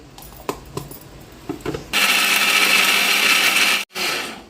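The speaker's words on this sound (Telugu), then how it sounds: "ఇప్పుడైతే పచ్చి కొబ్బరి అయితే మిక్సీ పట్టుకుందాము" A few light clinks and taps, then a mixer grinder whirs loudly grinding fresh coconut for about two seconds, stops briefly, and starts again.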